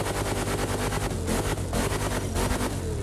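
A stock car engine in The Crew Motorfest racing game gives a loud, continuous, choppy rumble with rapid pulsing throughout.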